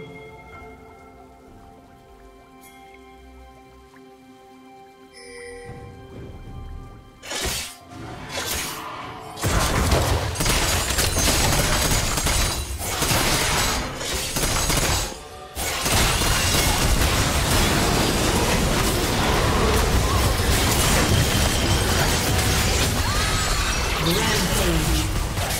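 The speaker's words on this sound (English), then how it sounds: "Red team's turret has been destroyed." A turret destroyed in League of Legends: a loud crashing, shattering collapse that swells into a dense, sustained roar of crumbling debris, up close and over the game's background sounds.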